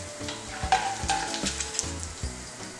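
Chopped onion sizzling gently in oil inside a tagine over low heat, a soft steady frying hiss with small crackles and occasional stirring clatter, heard close and alone.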